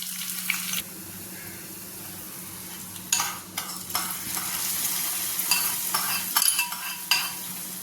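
Fried shallots and curry leaves are tipped into a fish-style curry made without fish, bringing short bursts of sizzling and spattering along with scraping against the pan, then a few quieter stirring sounds.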